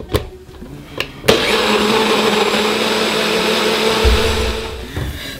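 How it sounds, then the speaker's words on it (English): Nutribullet with extractor blades blending a banana cream pie smoothie: a few clicks, then a loud steady motor whir close up that lasts several seconds before easing, no voices. "Using the extractor blades, you are going to blend this until nice and smooth."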